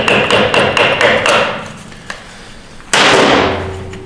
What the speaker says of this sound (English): so I'm going to use a hammer to knock this thing out.